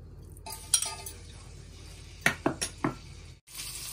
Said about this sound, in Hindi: गार्लिक को तब तक पकाएंगे जब तक ये ब्राउन और इसकी स्मेल ना आ जाए